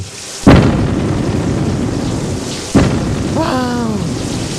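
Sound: heavy rain and thunder

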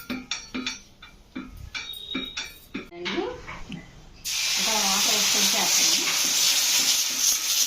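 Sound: dosa batter sizzling on hot pan

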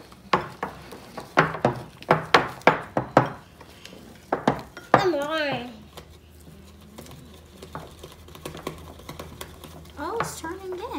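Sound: mixing fluffy Christmas slime in a bowl

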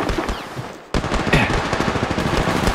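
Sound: gunfire in the video game Apex Legends Mobile

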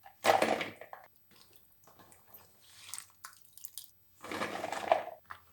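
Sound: green beans being washed in plenty of water

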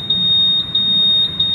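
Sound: Honda Scoopy motorcycle anti-theft alarm beeping

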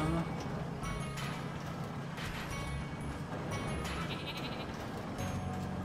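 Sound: sheep bleating in video game Flockers

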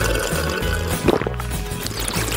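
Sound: liquid being poured into a glass

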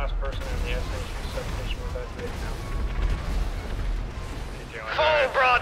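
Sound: flying submarine broadside fire and explosions in GTA video game

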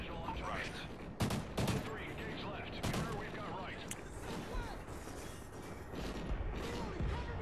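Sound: gunfire in a video game

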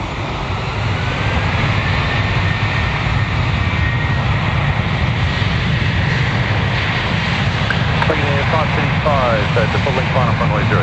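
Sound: airliner jet taking off from runway

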